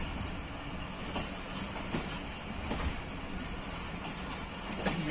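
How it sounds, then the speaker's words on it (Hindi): Pakistan Railways 204 Down Jand passenger train arriving at Jand Junction, a loud continuous rumble with periodic clicks of wheels over rail joints throughout. "मुकर्रा वक्त पर जंड जंक्शन पहुंच रही है 204 डाउन जंड पैसेंजर ट्रेन।"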